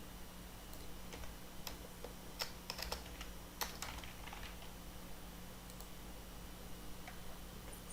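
Typing on a computer keyboard, a steady run of quiet key clicks with a few sharper taps, heard alone over faint background hum.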